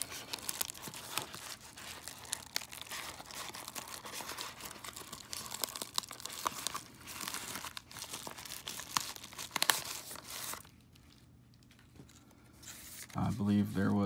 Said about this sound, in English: So let's open this up and take a look at those cards.